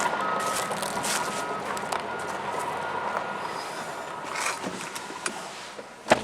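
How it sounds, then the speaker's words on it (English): Trucks arrive near a coal ash spill site, with a rumbling engine bed and repeated high reversing beeps sounding through, plus a couple of sharper knocks toward the end. "there comes the Tattletale trucks"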